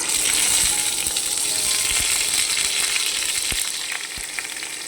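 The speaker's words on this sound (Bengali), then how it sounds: "এবার আমি পটলগুলো দিয়ে দেবো ভাজতে।" Stuffed pointed gourds, potol dorma, fry in oil with a loud, dense, continuous sizzle up close, easing slightly toward the end, broken by a few sharp pops and ticks.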